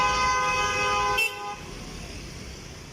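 Horn blares at a busy bus stand, a loud sustained toot lasting over a second before cutting off, leaving a dense background of traffic rumble and crowd noise.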